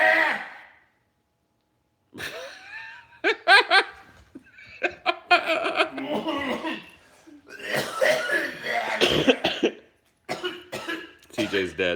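Repeated harsh coughing from one person, bursts broken up across the stretch, with laughter and chatter mixed in among a small group; loud and close, one cough fit ending in a strained, quacking rasp.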